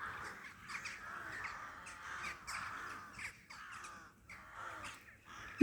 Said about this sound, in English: They are so noisy. I think they're ravens. Or crows.